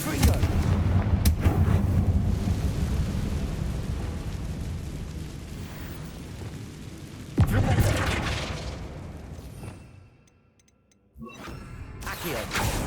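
Confringo blasting spell explosions boom through a Harry Potter video game, heavy rumbling blasts with sharp onsets near the start and midway, trailing into long roaring decay, then a brief hush before another blast.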